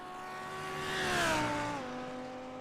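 Audi race car engine at Spa Francorchamps during a 12-hour endurance race, a steady harmonic drone that rises, peaks and falls as the car passes at part throttle, heard clearly with no talk.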